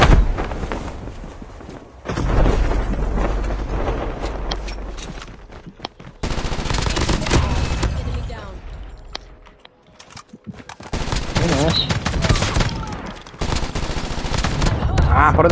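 Video game gunfire rattles in long, dense automatic bursts separated by brief lulls, loud and close. Players talk over the shooting.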